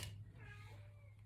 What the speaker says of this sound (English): my cat is crying to come in here.